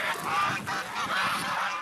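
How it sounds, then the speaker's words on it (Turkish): A large flock of about 300 geese honks continuously at a farm pool in Tokat, a dense, loud chorus of overlapping calls close by with no pauses. "Yaklaşık 300 adet kazın aynı anda suya girerek serinlemeye çalışması ise ilginç"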